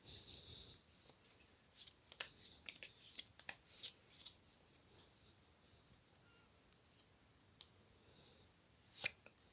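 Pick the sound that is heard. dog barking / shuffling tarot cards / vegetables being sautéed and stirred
shuffling tarot cards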